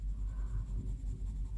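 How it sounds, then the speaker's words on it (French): A cheap colored pencil scratches against paper while coloring, a soft, close, rhythmic rasping in short strokes with a low rumble beneath and no talking. "Le crayon n'aime pas le papier non plus."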